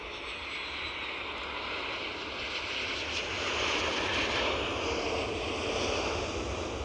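A Boeing Dreamliner jet at Edinburgh airport, a steady distant engine roar that builds slightly in the middle and holds, with light wind noise and no talking.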